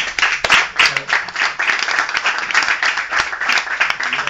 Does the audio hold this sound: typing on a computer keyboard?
no